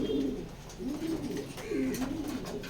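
Racing pigeons coo in soft, repeated low rolling calls at close range, several overlapping coos rising and falling in a loose rhythm through the short clip.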